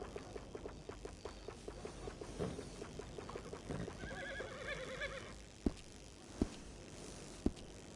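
Horse in Red Dead Redemption 2 whinnies and neighs repeatedly while being groomed, with faint game ambience and a few sharp clicks near the end.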